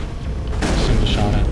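A heavy booming blast from the Carnage shotgun power in the Mass Effect video game, a single loud shot with a rumbling tail and metallic ringing, lasting about a second.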